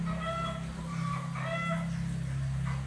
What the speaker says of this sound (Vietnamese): Gà kêu quá các bạn.